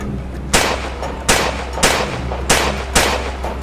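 Movie-style gunfire effect: five sharp, loud shots in an uneven rhythm over a steady low rumble, each blast ringing out briefly before the next.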